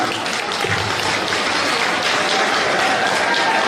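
Sustained, dense clapping from a large crowd of women at a gathering, steady and fairly loud throughout, with a faint murmur of voices underneath.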